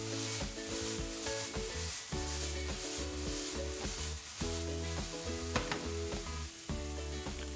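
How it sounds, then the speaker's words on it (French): Oyster mushrooms sauté in a hot frying pan, a loud, continuous sizzle with scraping and stirring from a utensil, close up and without speech. "On assaisonne bien sûr et on fait sauter à la poêle."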